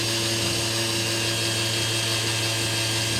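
A cordless power tool on a nearly flat lithium-ion battery runs with a steady, buzzing motor drone and strong tonal hum, sustained and close throughout.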